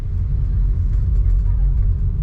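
Road traffic while driving through Srinagar: a steady, loud low engine rumble from inside the vehicle, with tyre and road noise under it and faint passing-car swells, continuous throughout.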